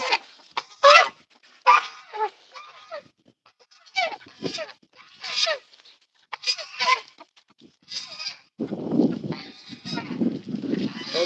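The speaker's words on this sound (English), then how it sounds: "Those are the African ganders." Two African geese ganders honk loudly in repeated harsh bursts, close by with short pauses between calls, followed by lower grumbling honks and some background voice.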